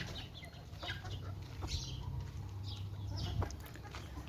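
A broody hen in a backyard chicken coop makes a low, drawn-out clucking drone, with faint chirps from small birds and light rustles over it, quiet and close.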